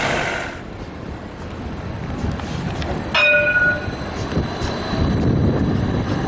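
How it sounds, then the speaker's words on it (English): An Edinburgh tram passes outdoors with a rumbling roll and wind buffeting, with a brief high squeal of wheels midway, fairly close. "Here's one of the Edinburgh trams."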